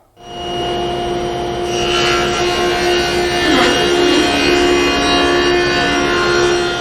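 Table saw cutting a wooden spline with a feather board holding the board against the fence, a steady loud whine with rasping friction that swells midway.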